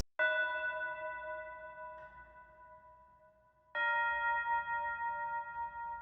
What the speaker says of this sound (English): Next, this bell from Keyscape.